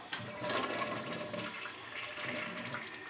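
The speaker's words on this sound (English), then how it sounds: "It still won't flush." A toilet flushing at close range in an apartment bathroom, a short rushing swirl of water that starts abruptly and keeps churning for a few seconds with no talk over it.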